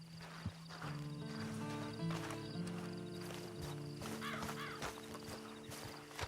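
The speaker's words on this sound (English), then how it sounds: "And you better get on this horse." A horse in the video game Red Dead Redemption 2 clip-clops at a walking pace with steady hoof falls and whinnies, sounding close. Low tonal music plays beneath it.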